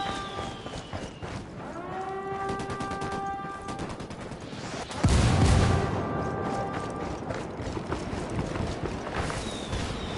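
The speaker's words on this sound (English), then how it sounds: "Mortar, get to fucking cover." Mortar fire in Ghost Recon, a heavy low thump landing midway through, set against steady battlefield noise with scattered shots and mechanical tones around it.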